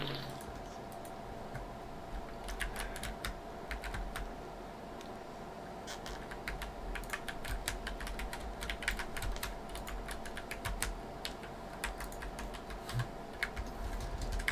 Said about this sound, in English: I'm just using my keyboard now, not using my Xbox controller anymore.